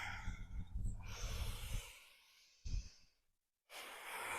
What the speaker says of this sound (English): Inhales bring you forward, and the exhales send you back.